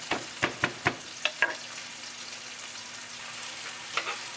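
Food fries in a pan with a soft, steady sizzle, while a few sharp clicks and taps from the pan or utensil come close together early on and once more near the end.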